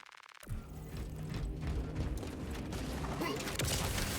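Grapple launcher fired in Space Marine 2, a sudden mechanical launch after a brief quiet start, followed by rattling, creaking machinery and rumbling combat noise.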